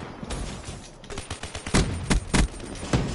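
Rapid bursts of gunfire in a first-person shooter video game on the Rise map, with several loud volleys and single sharp shots that grow denser and more intense toward the end.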